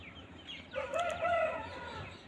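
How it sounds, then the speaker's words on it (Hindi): A single rooster crow rings out, loud and drawn out, over a quiet background of soft farmyard noise of roosters and hens at home in the early morning. "आपको मुर्गा मुर्गियों की आवाज़ आ रही होगी"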